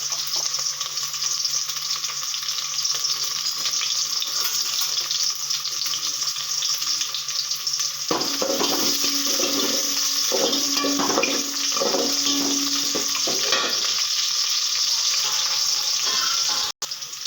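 Chopped shallots fry with spices in oil under a loud, continuous hiss; midway a busier stretch of bubbling and stirring texture rises, then the sizzle settles and ends in a sudden clunk.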